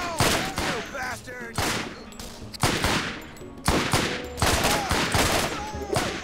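Gunfire in the Borderlands video game: repeated bursts of rapid shots in several clusters, loud and close, with a few brief tonal game sound effects in between.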